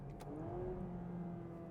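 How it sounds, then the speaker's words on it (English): A 2026 Honda Prelude's engine hums from inside the cabin while engine braking and blipping the throttle, a low steady drone with a rising then falling pitch, fairly faint. "I get engine braking and blipping of the throttle."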